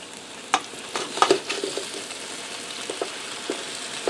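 Shrimp and sausage skillet sizzling and frying as Cajun seasoning is stirred in, with a soft steady hiss and several spoon scrapes and clicks against the pan, fairly close and without talk.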